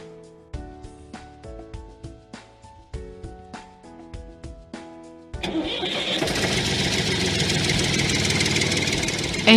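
A VST Shakti tractor starter cranks in a rapid rhythmic chug for several seconds, then the engine catches and roars into a loud, steady rumble.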